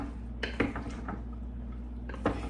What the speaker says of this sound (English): I'm gonna stir it all up.